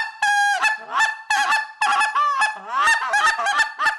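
A goose call is blown in a rolling double cluck, with quick two-note honking clucks repeated in a steady tumbling rhythm, close and loud with no voices.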